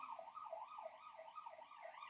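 An emergency vehicle siren wailing near a hospital, its rising and falling tone repeating steadily at close range for about two seconds with no voices.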